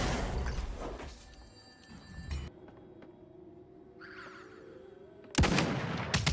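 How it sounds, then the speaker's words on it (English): Gunfire exchanged in the video game Realm Royale: loud bursts of game shots open the clip, a quieter stretch with a steady tone follows, then a sudden heavy volley erupts near the end, with no talking. "now we exchange shots there"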